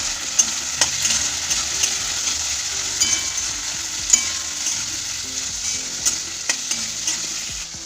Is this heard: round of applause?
no